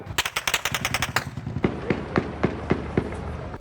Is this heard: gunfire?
yes